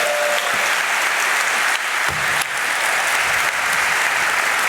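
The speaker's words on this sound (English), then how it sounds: "A big applause for Christoph." Sustained applause from a conference audience at Laracon EU 2024 after a talk on managing thousands of tests, a dense steady wash of many hands clapping throughout.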